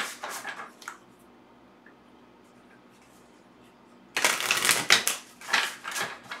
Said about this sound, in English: let's shuffle the Divine Abundance deck and see what our Oracle card is.